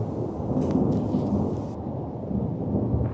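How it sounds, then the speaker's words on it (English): Loud, continuous rumbling thunder from black lightning bolts striking down in a Power Rangers Samurai episode, a heavy roar filling the whole stretch with a brief crackle near the start. "Bolts of black lightning strike down from the sky"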